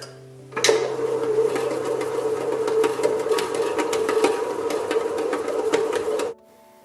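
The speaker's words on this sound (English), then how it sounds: "we are only using the bread maker to knead the dough" A Breville Custom Loaf Pro bread maker kneading sticky milk bread dough, a steady mechanical motor whir with rhythmic thumping that starts abruptly, runs evenly and cuts off, close and fairly loud.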